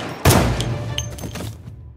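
A single sharp gunshot-like blast strikes suddenly, followed by a decaying rumble with a couple of faint later pops, heard alone without talk; three shots fired inside a high-school classroom.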